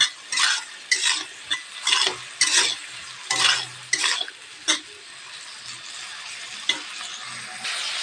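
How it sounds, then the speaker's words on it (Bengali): Malabar spinach seeds and sweet potato with turmeric and salt are stirred in a hot pan, bursts of scraping and sizzling spaced by quieter frying, close and fairly soft. "হলুদ দিয়ে লবণ দিয়ে ভালো করে আমি এগুলা ভেজে নেব।"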